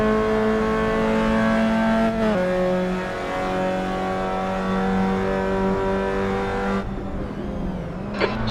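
Mazda MX5 race car engine in the Assetto Corsa racing game on the Nurburgring GP circuit, a loud continuous high-revving drone with brief dips in pitch at gear changes and an easing-off near the end.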